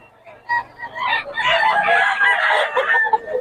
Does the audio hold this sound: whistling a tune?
no